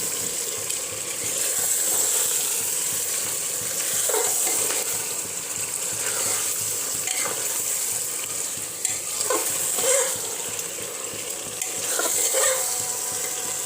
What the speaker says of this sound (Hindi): तो हम इसको 5 मिनट तक अच्छे से भून लेंगे